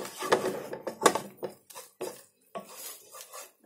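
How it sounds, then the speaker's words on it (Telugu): A spoon scrapes and clanks against a pan while veg Manchurian sauce is mixed, producing close, uneven bursts of stirring and metal knocks with short pauses between them. "వేసేసాక ఇది ఒకసారి మనం నీట్ గా కలిపేసుకోవాలి"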